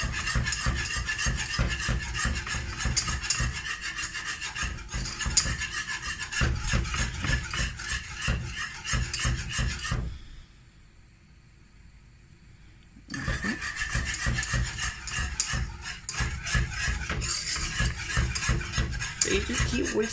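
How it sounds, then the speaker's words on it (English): Whisk stirring a flour mixture in a pot while cooking, giving a steady scraping, rasping rhythm that stops briefly partway through and then resumes, with no talk. "you just keep whisking until all the flour is dissolved"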